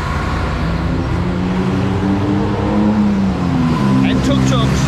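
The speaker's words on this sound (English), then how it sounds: "avoid getting hit by these old school buses" Old school buses and other traffic rumble along a busy city street lined with gold and trophy shops, loud continuous engine drone with a passing vehicle and a brief horn-like tone near the end.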